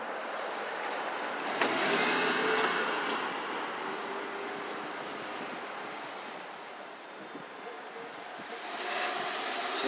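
A car moves through a Boston intersection, a steady broad wash of traffic and road noise that swells and fades over several seconds, with no talk.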